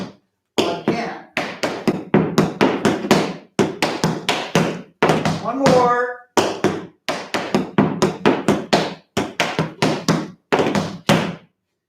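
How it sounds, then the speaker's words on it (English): Tap shoes strike a hard floor in brisk rhythmic bursts during a tap class: scuffs, heel drops, spanks and throw-downs repeat in steady phrases with short pauses, close and crisp, while an instructor briefly speaks. "Scuff heel, back flat, heel tip, heel step, heel spank, heel step, throw down."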